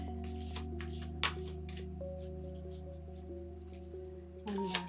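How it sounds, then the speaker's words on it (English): Tarot oracle cards are shuffled by hand in quiet bursts of soft riffling, with a brief pause before a final flurry, over a low steady background hum. "One more shuffle."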